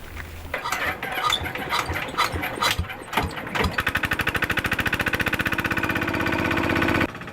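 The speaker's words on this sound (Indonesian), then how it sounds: "Mesin pencacah daun memudahkan para petani dalam memproduksi serat daun nanas." A pineapple leaf shredding machine runs loud and close, starting with irregular clattering bursts before settling into a fast, steady mechanical pulse that holds for several seconds and then cuts off.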